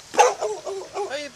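A chained dog gives a sharp bark followed by a string of short yelping whines, close and fairly loud, with no talking.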